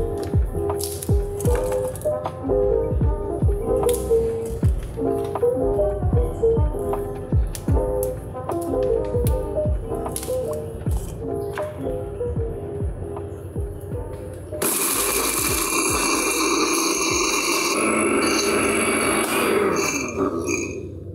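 Garlic and chilies are coarsely crushed for a fresh sambal, with rapid rhythmic pounding and squishing thuds repeating close by, then a louder, noisier rattling grind near the end.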